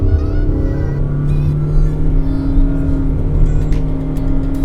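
A 2023 Honda BR-V engine revs with its CVT holding the revs, a steady, loud, close drone that stays at one pitch without upshifting and plays alone for several seconds.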